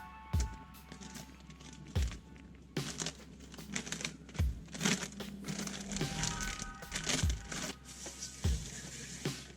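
A plastic Ziploc bag crinkles and rustles over a motorcycle fork tube during a Speed Triple 955i fork seal job, in irregular close bursts broken by sharp handling knocks.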